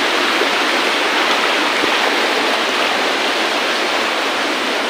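Fast-flowing water rushes along the Ganesh river in a loud, constant roar that stays dense and unbroken throughout.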